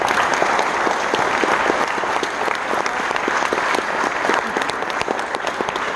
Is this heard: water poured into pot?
no